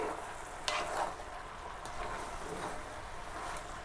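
Steady crackling sizzle of meat frying in fat in a pot for a red wine pot roast, with a few clinks and stirring sounds, no talking.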